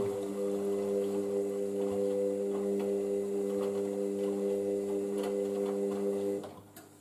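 An Indesit IWC6165 washing machine running a rinse on a darks load, a steady droning hum with a rhythmic mechanical ticking, close and even, fading out at the end.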